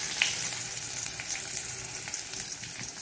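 Chopped onion sizzles steadily in a pan of hot oil with garlic and green chilli for a capsicum bhaji, a constant close frying hiss with a faint clink near the start and no voices.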